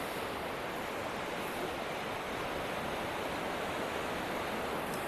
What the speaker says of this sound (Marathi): फक्त आवाज आहे का समुद्राचा